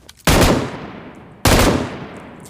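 Gunfire in PUBG Mobile strikes an armored vehicle in two loud, sharp bursts about a second apart, each fading off quickly, with no voices.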